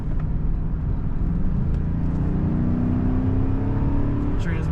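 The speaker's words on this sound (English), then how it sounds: "Transmission kicks down well when you push that throttle pedal down" A 2000 Cadillac Eldorado accelerating hard as its transmission kicks down, a steady low engine drone rising in pitch from inside the cabin, with a voice talking over it.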